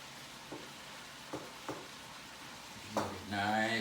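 Chopped onions hit a pan of browning ground pork in a Power XL cooker, giving a faint sizzle with a few soft scraping stirs, then a louder burst of frying near the end.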